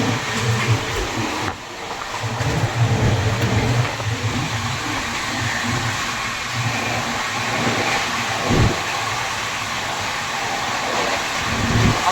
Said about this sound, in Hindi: हमारी ट्रेन नॉन स्टॉप